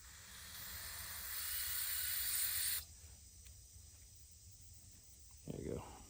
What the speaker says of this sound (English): Try some brake cleaner, just in that little center.